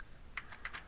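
Fast, light keystrokes on a computer keyboard in short clustered bursts while entering a router access-list command, faint and close with no talk.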